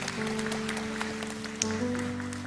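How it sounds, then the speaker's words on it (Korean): A church congregation claps at a youth service, the scattered, fairly faint applause heard over sustained keyboard tones for about two and a half seconds. "자, 박수 한번 하시겠습니다."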